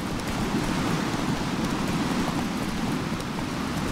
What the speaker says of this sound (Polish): O ja, śnieg, deszcz